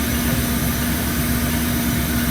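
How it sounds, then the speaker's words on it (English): An MPI F40PH-3C diesel locomotive in the Train Sim World game, running an MBTA Providence service, holds a steady, loud, low engine drone with a constant tonal hum and no pauses. "I don't particularly like the engine sounds on these F40s in TSW"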